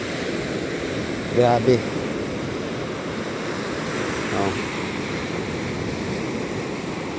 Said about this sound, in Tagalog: Oh, sunod-sunod ang alon.